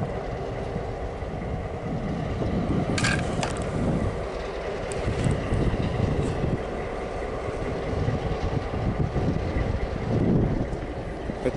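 CN 540 freight train with its railcars rolls past close by outdoors, a continuous heavy rumble with clanking and squealing wheel noise, mixed with wind buffeting the microphone.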